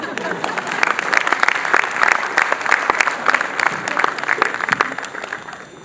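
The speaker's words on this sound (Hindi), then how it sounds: "जितनी तालियां बजाकर आप लोग स्वागत कर रहे हैं" Dense, steady applause from a large audience at a Hindi kavi sammelan poetry gathering, sustained at full strength for several seconds with no break.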